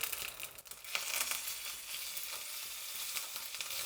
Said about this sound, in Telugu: ఇవి వేగినాక కరివేపాకు వేయాలి.